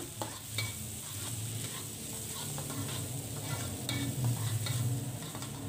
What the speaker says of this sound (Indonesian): Kembali lagi saya tumis semuanya hingga matang bumbu halusnya ini.